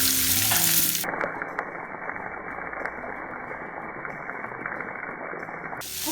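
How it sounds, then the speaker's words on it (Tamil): Curry leaves, garlic and onion fry in a pan for a dried anchovy fry, giving a steady close sizzle with faint stirring clicks, sharper for the first second and then a dull, even crackle. "கருவேப்பிலையும் லைட்டாக கொஞ்சம் வறுத்து போட்டுக்குவோம்."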